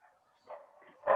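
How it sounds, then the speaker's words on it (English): Tiny but very loud pet dog barking indoors, heard as a couple of short yips, fairly faint and distant, with no talking. "I have to apologize for my dog."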